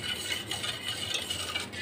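Coffee cake batter is mixed in a bowl, a brief continuous swishing and scraping stir heard up close with no talking.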